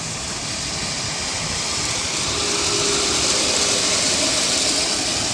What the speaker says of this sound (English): It's a super fast train.